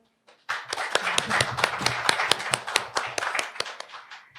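An audience at a COVID-19 field research presentation for Incheon social welfare centers applauds after an opening address, a dense, steady round of clapping that lasts about four seconds and then fades.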